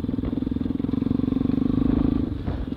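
Motorcycle engine running at a steady throbbing rhythm while riding, close and loud, with wind buffeting and some rattle over the ongoing drone.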